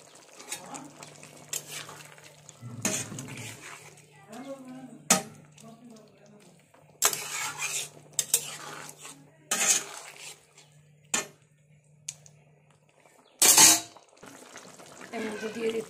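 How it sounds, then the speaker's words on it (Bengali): Chopped fenugreek greens are stirred into a pan for a Bengali fish dish, heard as scattered clanks and scrapes of utensils against the pan over a faint sizzle, with a low steady hum and a voice speaking between the sounds. "কেটে রাখা মেথি শাক দিয়ে দিলাম।"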